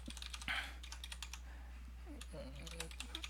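Steady run of light keyboard typing, close and fairly quiet, with evenly spaced key clicks over a constant low hum and a faint voice briefly underneath.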